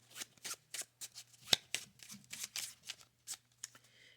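A cartomancy deck is riffled and shuffled up close, giving soft rapid flutters of cards in short repeated bursts with small gaps, faint and quiet with no talk.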